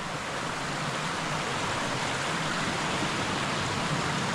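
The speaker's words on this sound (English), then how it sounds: "Nice little creek." A small creek flows past leatherwood scrub on an eastern-facing slope in Tasmania's Cradle Mountain–Lake St Clair high country, giving a steady, close broadband rush of water that holds even and unbroken throughout, with no voices.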